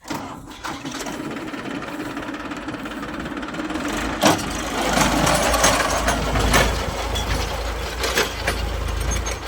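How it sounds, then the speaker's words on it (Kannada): A New Holland 42 HP tractor drives a new Shaktiman rotavator, a steady rattling engine drone that grows louder and rougher midway as the implement works the soil. "42 HP ಯಾವ ಥರ ಈಗ ರೋಟ್ರಿ ಕೆಲಸ ಮಾಡುತ್ತೆ ಸ್ನೇಹಿತರೆ ನೋಡಿರಿ"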